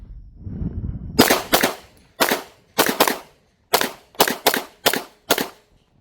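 Ten quick shots from an Avidity Arms PD10 pistol at a range: sharp, loud reports fired singly and in fast pairs and triplets, with short pauses between groups and no talking.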